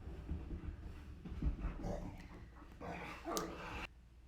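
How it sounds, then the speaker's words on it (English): Dogs whine and yip softly during play, with faint scuffling and a few sharp high yelps, fairly quiet and intermittent. "Sorry, my dogs are playing."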